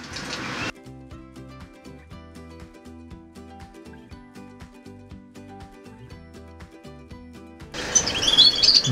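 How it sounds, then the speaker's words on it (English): A bullfinch cock bird in a canary breeding room gives a short burst of bright chirps near the end, following a long stretch of rhythmic music that dominates the sound. "this week's Bird of the Week is our bullfinch cockbird."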